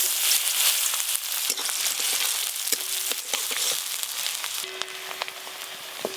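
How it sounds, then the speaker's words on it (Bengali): Chopped onions fry in hot oil for a katla fish curry, making a soft, continuous sizzle and hiss with a few scattered crackles and small clicks close by. "পেঁয়াজ কুচিগুলো বেশ ভালো করে ভাজা ভাজা করে নিয়েছি"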